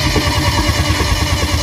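A hybrid BMW X5 engine, freshly rebuilt after repairs, cold-starts and runs on its own, producing a steady, loud, continuous engine drone with an even low throb and no voices.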